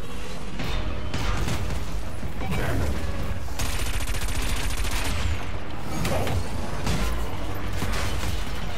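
A bomb detonating during a high-speed anti-gravity race in Wipeout 2048, heard amid a loud, continuous barrage of weapon fire, clanks and booming hits over the roar of the racing craft.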